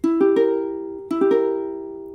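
A diminished chord on guitar, rolled upward twice in quick arpeggiated strums that ring and decay, clear and close.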